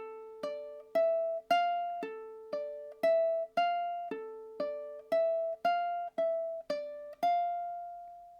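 Two ukuleles in a duet play the opening two measures of a song, a steady run of about fourteen plucked notes with bright ringing overtones, the last note held; close, clean and soft, with no talking.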